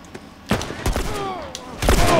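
Gunfire in The Last of Us rings out in a few sharp separate bursts, close and loud, with a voice talking between the shots.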